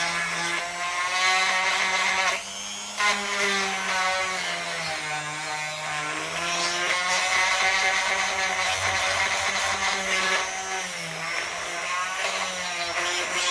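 An Ozito rotary tool runs on its second speed setting, grinding along the top edge of an action cam part with a steady, high whining buzz that wavers slightly in pitch as it bites in, loud and close with no speech.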